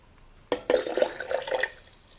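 Cold water pours into a Viomi V-SK152A stainless smart kettle, 1.5 L, 1800 W, with a sudden splash then a steady, close, loud gurgling stream that stops after about a second and a half.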